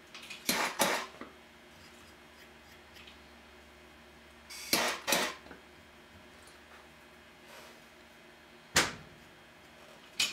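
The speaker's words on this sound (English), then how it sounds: "get my X-Acto knife out, trim that up" An X-Acto knife trims a small plastic part during a Glock 32 trigger job, heard as three quiet, close bursts of sharp scraping and cutting strokes separated by near silence.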